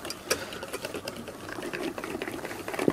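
A whisk beating beer batter of flour, semolina, water and cold beer in a bowl, giving rapid irregular clicking and tapping strokes, close and lively, with no talking.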